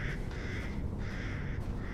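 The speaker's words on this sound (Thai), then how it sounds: "อีกาบินไปแล้ว" A crow in the video game Resident Evil Village gives several harsh caws in quick succession, clear and moderately close against a low ambient rumble.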